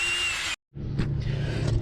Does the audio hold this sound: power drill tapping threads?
yes